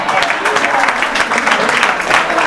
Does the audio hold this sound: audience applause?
yes